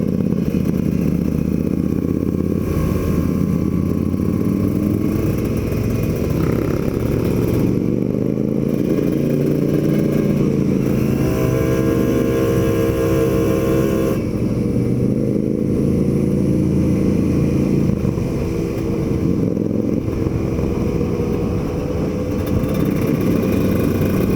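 Motorcycle, a Kawasaki Ninja RR, held in second gear on the winding Naringgul road between Ciwidey and Pangandaran, a loud continuous engine drone with wind buffeting, rising and easing as it works through bends.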